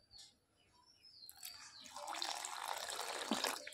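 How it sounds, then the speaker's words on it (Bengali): Water pours into a bottle-gourd peel mixture while cooking, a faint splash and trickle rising into a steady close stream over the last couple of seconds, preceded by quiet soft chirps. "জল দিয়ে ভালো করে মিশিয়ে আমি কিছুক্ষণ 10-15 মিনিটের মতো রেখে দেব"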